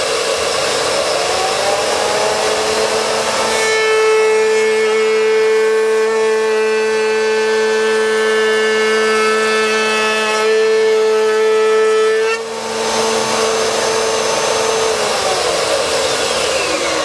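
A router on a router lift cuts a 26mm beech board, its loud steady motor whine rising into a sustained tonal cutting pitch for several seconds before dropping back to the plain running drone.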